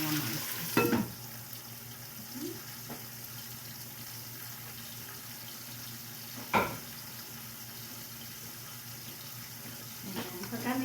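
Squid cooks in a covered pan for a coconut-milk squash stew, a soft, steady sizzle muffled under the lid, broken by a few sharp clanks of a utensil or lid.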